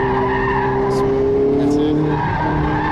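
A race car skids under hard braking in the GTA racing video game, a loud continuous tire squeal over engine drone that runs for a few seconds before easing off.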